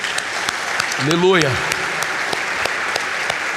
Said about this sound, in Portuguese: Você pode aplaudir a palavra do Senhor, querido?